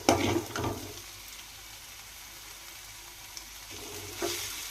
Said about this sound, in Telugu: ఇది కొద్దిగా సేపు వేగిద్దాము.